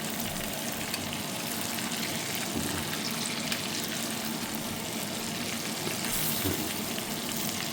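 Pork chops frying in a pan in a home kitchen give off a continuous, dense sizzle and crackle at a steady level throughout.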